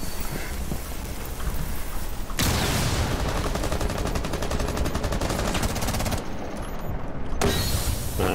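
Rapid gunfire is fired through a wall in a shooter video game, a dense continuous burst of shots and crackling impacts that keeps going with brief shifts in intensity.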